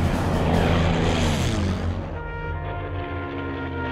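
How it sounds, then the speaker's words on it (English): A World War II P-51 Mustang fighter plane engine roars loud and steady up close, a broad droning rumble that eases slightly as the aircraft passes. "During World War II, this plane, the P-51 Mustang, was developed as a long-range fighter escort to U.S. and Allied bomber squadrons."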